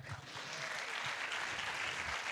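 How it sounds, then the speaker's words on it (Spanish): Audience at a conference breaks into applause for a participant, a soft, even wash of clapping heard from some distance for a couple of seconds. "Sí, un aplauso."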